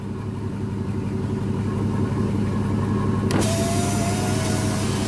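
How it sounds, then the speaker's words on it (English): A power window motor in the right rear door of a 1999–2004 Jeep Grand Cherokee, just fitted with a new regulator, runs with a steady whine while the glass rolls up, sitting over the constant hum of the idling engine. "we can turn this thing on and roll the window up"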